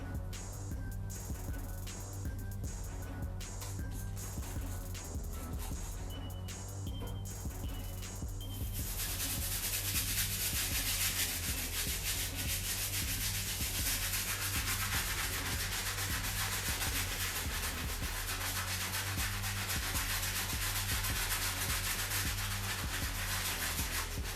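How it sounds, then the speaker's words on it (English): Stiff bristle brush scrubbing Air Jordan 6 Sport Blue sneaker outsoles with cleaning solution, a close, steady rasping rub that runs continuously and grows denser and louder partway through. "I'm gonna go ahead and work on these outsoles using the stiff bristle brush and our cleaning solution"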